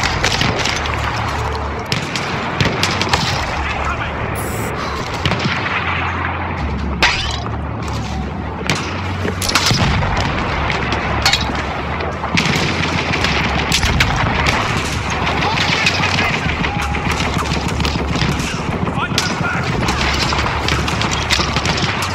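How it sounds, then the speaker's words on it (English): Heavy machine gun fire in Battlefield 1 rattles loud and close in rapid continuous bursts, mixed with booming explosions throughout the battle. "Well, that would be a heavy machine gun"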